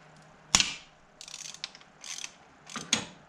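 An Audi engine bolt breaks loose under a wrench during a cylinder head overhaul with a sharp crack, followed by several ratcheting clicks and scraping mechanical sounds, close and fairly quiet, with no talk.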